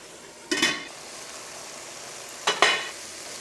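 Stirring chicken pasta sauce in a pan on the stove, two short scraping strokes about two seconds apart over a faint steady sizzle, close and quiet.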